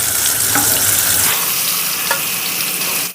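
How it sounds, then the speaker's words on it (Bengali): Pointed gourd (potol) pieces frying in hot oil with spices, a loud continuous sizzle with brief stirring scrapes, close and without talk. "এক সাইড ভাজা হয়ে গেছে, আমি এবার অন্য সাইড ভেজে নেব উল্টে দিয়ে।"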